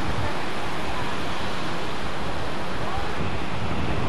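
Rough sea waves crash and roll near an island beach on a windy day, steady loud wash of surf mixed with wind noise on the microphone, no voices.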